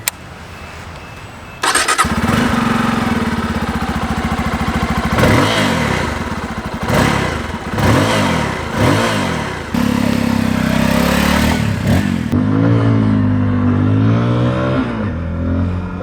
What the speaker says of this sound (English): I'll at least give you guys some idea about this motorcycle.